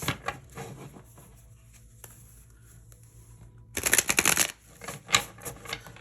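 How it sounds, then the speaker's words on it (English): Tarot cards are shuffled close by: a few soft riffles, a quiet pause, then a loud, rapid riffling burst followed by lighter taps. "As I'm shuffling your cards, I feel like I can't bend them."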